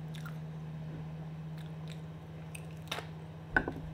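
Doktorskaya sausage in a natural casing chewed close to the mic: soft, wet mastication with a few sharper crunchy bites near the end, over a low steady hum, no talk.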